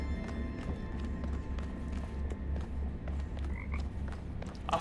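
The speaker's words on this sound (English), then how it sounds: "I heard a frog." A frog croaking in the video game The Talos Principle II, a run of rapid low rhythmic croaks pulsing steadily for about five seconds over ambient game sound, with faint clicks and no talk.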